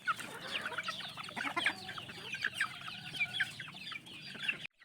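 A broody hen sitting in a coop clucking and chattering close by, repeated short clucks in an irregular flurry, with other farmyard chicken sounds mixed in.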